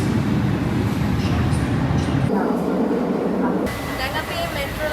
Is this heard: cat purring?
no